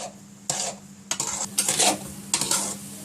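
A spoon scrapes and stirs suji halwa as it roasts in a pan, making a series of close, rasping strokes in an uneven rhythm over a faint sizzle, with no talking.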